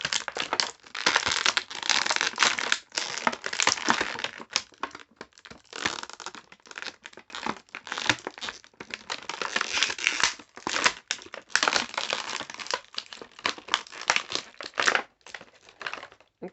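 A Star Wars Black Series Mountain Trooper figure is worked free of its packaging, with loud, close, irregular bursts of plastic and cardboard crinkling, crushing and tearing throughout, no speech.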